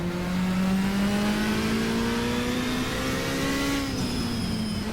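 Mercedes touring car from the 1987 WTCC season, raced at Brno in GTR2, with its engine revving hard and steadily climbing in pitch, then dipping as it shifts near the end, loud and close throughout.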